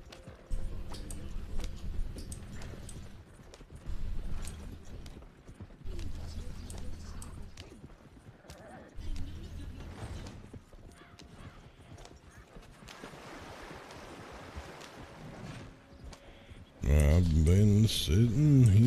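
Hoofbeats of a horse galloping in a Wild West roleplay video game, rhythmic clip-clop bursts over faint background game sounds, ending in a louder burst of other game audio.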